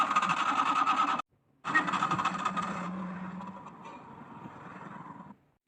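A vehicle engine cranks and sputters without catching, two bursts of rough mechanical churning split by a short silence, the second fading into a weaker whir before stopping, close and alone.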